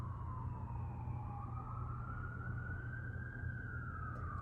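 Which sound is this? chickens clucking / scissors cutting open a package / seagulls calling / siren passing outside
siren passing outside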